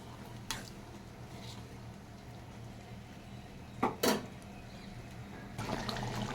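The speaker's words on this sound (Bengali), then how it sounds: "আমি দিয়ে দিচ্ছি এবার জল আর এই চিংড়ি মাছ কটা।" Water and prawns go into a pot of potato and prawn curry: a quiet background, a couple of sharp clinks and splashes, then a steady pour at the end.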